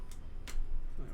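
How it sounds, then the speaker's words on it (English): Keycaps are pulled from a mechanical keyboard, giving a few light, sharp clicks spaced apart over a steady low background. "Just remove the last of these keycaps here."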